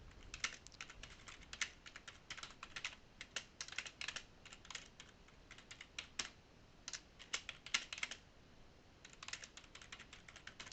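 Rapid keystrokes on a computer keyboard while text is typed into a Word document, clicking in irregular bursts and short pauses, close and fairly quiet, with no talking.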